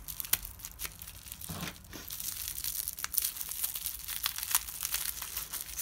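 Close crinkling and tearing of heavily taped packaging around a ball-jointed doll box, with sharp irregular snaps and rustles as material is pulled and cut.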